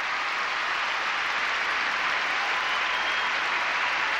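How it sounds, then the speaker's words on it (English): An arena crowd gives loud, sustained applause after an ice dance performance, a thick, even roar of clapping that fills the whole building without a break. "Marvellous, and great applause from around the building."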